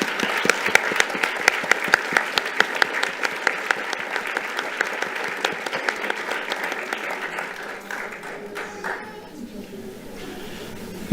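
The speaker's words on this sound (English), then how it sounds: "So we have a round of applause." Round of applause for students at a school board meeting, with scattered distinct claps over a steady crowd of hands, fading out after about eight seconds into room noise and talk.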